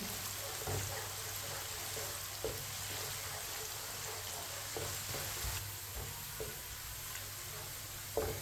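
Onions browning in a pan over a medium flame for pulao, a steady soft sizzle with faint scattered clicks of a spoon stirring throughout.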